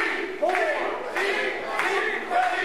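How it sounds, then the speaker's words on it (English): At an RWA Hype pro wrestling show, a crowd shouts and cheers in repeated rising bursts, with loud individual yells standing out over the general roar. "Crowd starting to come alive with chance for T"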